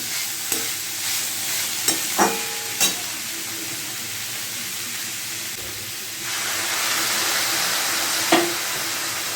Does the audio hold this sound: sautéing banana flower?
yes